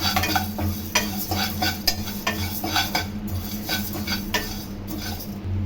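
Curry leaves dry-roast lightly in a pan while a metal spoon stirs and scrapes them, making quick rhythmic clinks and rustles over a faint sizzle, close by and steady.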